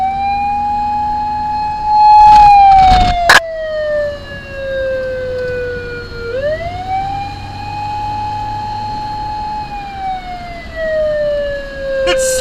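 Loud wailing siren from a 1992 Suzuki Carry kei van converted into a fire van, rising and falling in long sweeps on an open road, with a brief burst of wind or handling noise early on.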